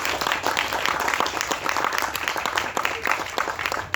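An audience at a movie audio launch breaks into sustained applause, a dense, loud wash of many hands clapping continuously throughout.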